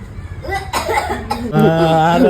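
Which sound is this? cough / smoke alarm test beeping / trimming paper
cough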